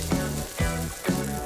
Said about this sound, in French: Puis faites-la frire des deux côtés.